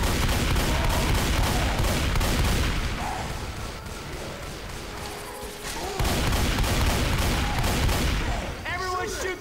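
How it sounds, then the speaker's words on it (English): Heavy, continuous gunfire aimed at the Tank during a Swamp Fever plantation fight in Left 4 Dead 2, loud and dense throughout with bursts layered over each other, people talking over the shooting. "Everyone shoot the tank."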